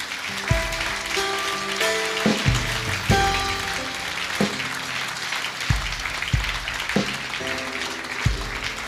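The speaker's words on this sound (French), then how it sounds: "On va applaudir le Seigneur." A church congregation claps during a service, a continuous patter of hands carrying on under loud sustained musical tones and sharp percussive hits from instruments playing along.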